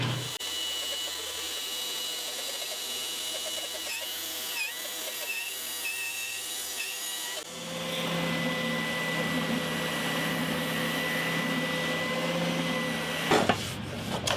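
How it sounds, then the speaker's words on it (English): A bandsaw cuts a piece of wood for a custom bridge during a repair of a 50-year-old acoustic guitar, making a steady machine whine that turns louder and fuller as the blade bites, then cuts off near the end. "I've got to cut this first on the bandsaw."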